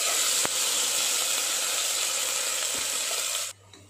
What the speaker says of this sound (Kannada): ಇವಾಗ ಇದನ್ನ ಸ್ವಲ್ಪ ಹೊತ್ತು ಫ್ರೈ ಮಾಡ್ಕೊಳ್ಳೋಣ